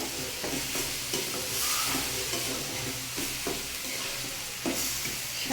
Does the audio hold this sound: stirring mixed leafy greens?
yes